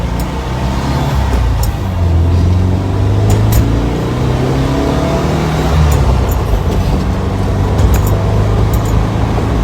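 A 200HP turbocharged VW bus pulls away from a normal take-off, its engine droning steadily and loud from inside the cabin with no break, a few faint clicks sitting above the hum.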